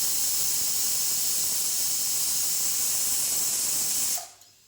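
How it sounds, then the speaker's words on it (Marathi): A pressure cooker whistle shrieks with a loud, steady hiss of escaping steam while sesame-jaggery laddoo mixture cooks inside, then it cuts off abruptly near the end. "आता आपली बघा इथे कुकरची 1 शिट्टीही होत आहे."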